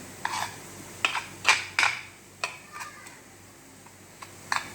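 Spoon scraping and clinking in a bowl as sandwich filling is mixed with salt and black pepper, with a series of short, sharp taps spaced irregularly, close and fairly quiet, with no talk.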